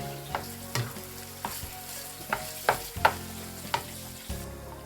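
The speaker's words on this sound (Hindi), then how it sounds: "अभी इस टमाटो पेस्ट के साथ हमने कीमे को अच्छी तरह कुक करना है" Minced meat cooking with tomato paste in a pan for shepherd's pie, a steady close sizzle broken by several sharp scraping stirs at an uneven rhythm, with no talking.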